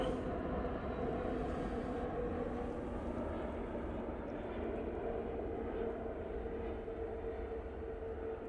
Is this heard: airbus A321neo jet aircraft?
yes